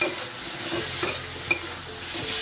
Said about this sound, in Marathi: वांगी आहे ना तेलामध्ये चांगली परतून घ्यायची